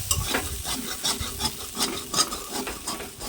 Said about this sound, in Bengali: কী মনে হচ্ছে ভাজা হয়েছে